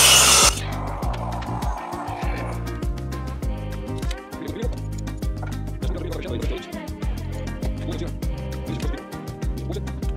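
A power saw cuts an ash-wood front rail piece for a dresser, giving a loud, steady motor whine with a regular pulsing rhythm that runs continuously close by.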